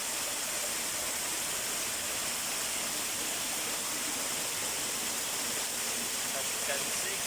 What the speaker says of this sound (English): As you can see, the water comes out from the ground.